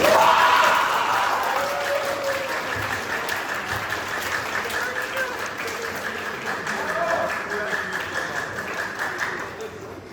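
An audience at a school Halloween event claps in sustained applause, loud at first and then settling into a steady patter, with a voice speaking over it near the start.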